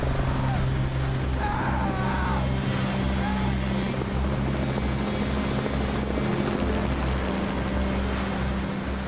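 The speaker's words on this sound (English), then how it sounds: "Then the helicopter would faint and it would go away." Helicopter rotor drone throbbing steadily throughout, loud and continuous, with a low droning hum and no clear rise or fade.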